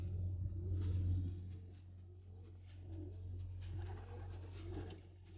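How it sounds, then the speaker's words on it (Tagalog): Pigeons on a desert farm coo softly in low, repeated burbling calls against a quiet background rumble. "Mga kalapati nandito."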